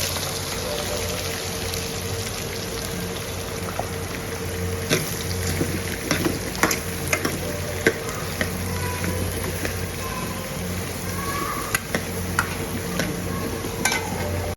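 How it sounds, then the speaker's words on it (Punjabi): Tomatoes and whole cumin seeds sizzling in hot oil in a pan, a continuous dense crackle and hiss with occasional clinks and stirring scrapes, close by with no voices. "ਇਹਦੇ ਵਿੱਚ ਤੇਲ ਆਪਣਾ ਗਰਮ ਹੋ ਗਿਆ ਹੈ ਤੇ ਇਹਦੇ ਵਿੱਚ ਆਪਾਂ ਟਮਾਟਰ ਪਾ ਦਿੰਦੇ ਸਾਬਤ ਜੀਰਾ ਨਾਲ ਹੀ ਆਪਾਂ ਪਾ ਦਾਂਗੇ"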